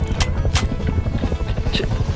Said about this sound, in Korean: 야 헬기 피해서 숨어 헬기가 이쪽으로